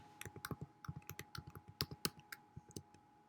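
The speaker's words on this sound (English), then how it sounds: "let me just type it in" Typing on a computer keyboard, a quick irregular run of crisp close key clicks over a few seconds in a quiet room, no voices.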